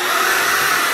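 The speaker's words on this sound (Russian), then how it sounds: "Вот этот валик для ковров. Нажимай старт." An electric carpet roller cleaner runs with a steady, loud motorized whir, unbroken for the whole second with no talk over it.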